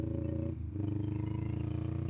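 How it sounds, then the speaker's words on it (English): A motorcycle engine drones steadily with a strong, even low rumble during a ride on rural Australian roads, dipping briefly before holding a constant pitch. "Revving her up again."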